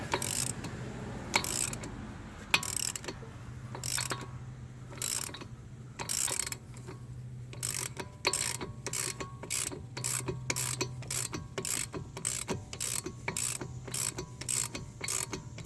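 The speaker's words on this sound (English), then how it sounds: "I should be able just to get it with my ratchet here. I'm just going to loosen it off a little bit." A hand ratchet clicks in quick, regular bursts while a bolt on a Chevy Cruze driver's side CV axle is loosened, with a low mechanical hum beneath the near, steady clicking.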